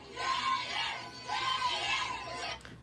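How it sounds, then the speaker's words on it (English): Fans scream for Jaden in a loud, sustained high-pitched crowd roar that comes in two long swelling waves, with no separate voices standing out. "That's fans screaming for Jaden."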